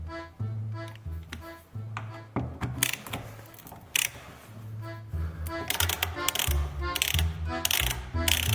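A ratchet clicks in quick, uneven bursts, close and crisp, unscrewing a bolt on the side mirror of a VW Polo 6R, with short pauses between strokes.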